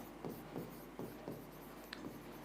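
Marker or chalk strokes on a board during a chemistry lesson on crystalline solids, a series of short scratchy strokes in steady rhythm, close and fairly quiet, with no talking.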